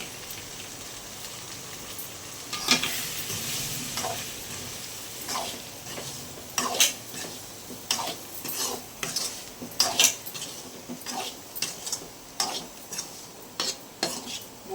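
A spoon works through tamarind curry (puli kuzhambu) with drumstick and field beans after turmeric goes in, making soft metallic scrapes and taps against the pan. The strokes come irregular and close over a faint bubbling hiss, with no talking.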